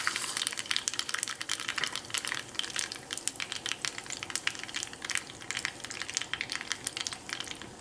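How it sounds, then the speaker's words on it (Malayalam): Urad dal crackling and sizzling in hot vegetable oil with spluttered mustard seeds as a tempering for curd rice; a dense, steady stream of sharp pops and fizzing close by, with no voices. "ഇനി ഇതിലേക്ക് 1 ടേബിൾ സ്പൂൺ ഉഴുന്ന് ചേർക്കാം."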